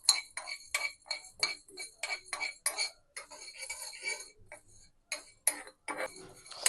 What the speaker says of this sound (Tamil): இதை நல்லா நம்ம வறுத்துக்கலாம்.